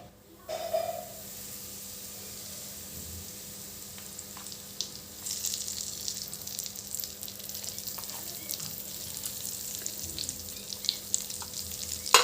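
Hot oil sizzles and crackles steadily as it is poured a little at a time over spices for a fresh turmeric pickle, a continuous frying hiss that grows livelier partway through, with no talk.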